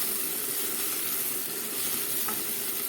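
Meat and bell peppers sizzling steadily in a hot pan, a dense, continuous crackling hiss heard up close, with no talk.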